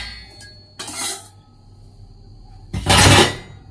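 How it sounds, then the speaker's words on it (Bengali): Dishes, pots and pans being washed by hand, with two bursts of clattering metal and splashing scrubbing, the second louder and longer, separated by a quiet stretch. "তো চলো গাইস, আগে বাসন মেজে নিই"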